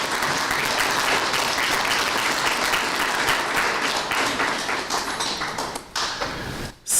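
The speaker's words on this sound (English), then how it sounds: "we all deserve a round of applause" An audience applauds after a speech by the UN Special Envoy on HIV to the Caribbean, a dense, steady round of clapping that carries on for several seconds before thinning out near the end.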